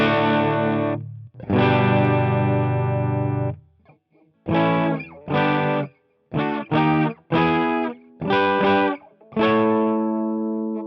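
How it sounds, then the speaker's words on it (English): An electric guitar plays chords through a strictly Class A THD amp modeled in AmpliTube 5, with a driven, distorted tone, ringing out in a series of separate strums with short gaps between them and no talking. "it is nice to have an example of a strictly Class A amp to listen to"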